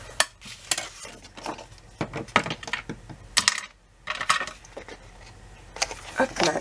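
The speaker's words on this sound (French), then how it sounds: "Je marque mon pli." Paper being creased to mark a 1 cm fold for a photo slot, heard as a series of close, crisp rustles and sharp scraping strokes in bursts, with brief pauses between them.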